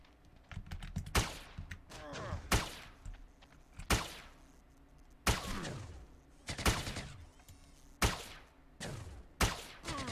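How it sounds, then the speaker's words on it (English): Video game gunfire, a string of sharp, close shots and short bursts with echoing tails, spaced irregularly a second or so apart, alongside faint keyboard clicking. "Am I being shot at?"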